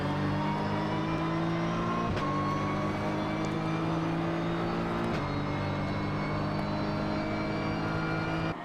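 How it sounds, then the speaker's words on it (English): A GT race car engine drones at a high, steady pitch for several seconds, with two brief gear-change dips, loud and close with no voices, accelerating out of a corner down the straight at Suzuka during qualifying. "I'll fall quiet as he accelerates out of the corner down the straight"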